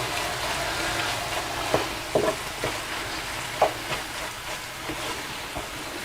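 Zucchini frying in a pan, a steady soft sizzle with occasional small pops and stirring clicks, heard alone at moderate level.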